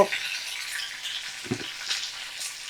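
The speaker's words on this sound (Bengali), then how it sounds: "তো এই দেখো এখন আমি ভালো করে ভাজা করে নেব" Broad beans and brinjal frying in mustard oil, a steady close sizzle with a short spattering burst midway, heard alone without voices.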